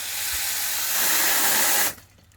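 Mains water rushing into a reusable sediment filter housing, a steady loud hissing spray that runs for about two seconds and then cuts off abruptly.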